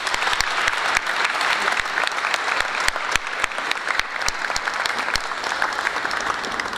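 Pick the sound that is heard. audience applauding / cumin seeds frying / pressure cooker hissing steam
audience applauding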